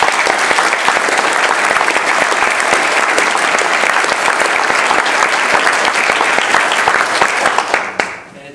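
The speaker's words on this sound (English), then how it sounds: "give them a warm round of applause" A large audience at the STS-135 preflight briefing claps continuously in dense, sustained applause that fades out quickly at the end.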